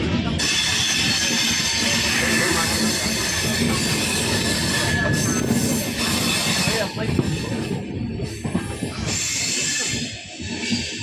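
The 12060 Shatabdi SF Express runs on rails, producing a loud, continuous rumbling roar with wheel squeal and faint clatter that holds steady before easing slightly near the end.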